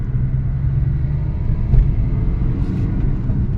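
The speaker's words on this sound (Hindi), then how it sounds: "मैं सामने दचकों में जोर से फेंकूँगा गाड़ी को, थोड़ा तेज ही गिराऊंगा, तब देखना आवाज़ आएगी पीछे से" A Swift Dzire diesel rolls hard over bumps, a steady heavy road rumble with a faint knock from the rear suspension under it, with no voices.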